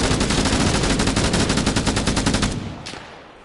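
Light machine gun fire in Arma Reforger: a rapid, evenly spaced burst of loud shots lasting about two and a half seconds, then trailing off into fading echo.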